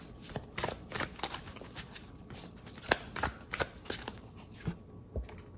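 Oracle cards are shuffled by hand close up, with rapid riffling bursts and sharp taps in an uneven rhythm, no voices.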